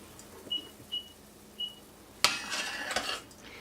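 A boiling divinity candy mixture is stirred in a pot: three short faint beeps, then a spoon clanks and scrapes against the pot in quick, close clatters.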